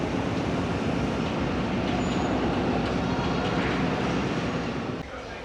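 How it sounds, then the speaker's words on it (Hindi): A Sialkot Express train rumbles steadily as it starts to move at Sialkot Junction, a loud, continuous broadband roar of rolling wheels and carriages that drops slightly in level near the end. "ट्रेन चलने लगी है तो सवार हो जाते हैं ट्रेन में"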